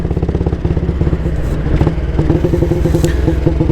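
A 1938 AJS Model 22 250cc single-cylinder motorcycle with a single-port head and single exhaust idles close by with an even, rapid thumping beat, and the revs rise slightly partway through. No one speaks.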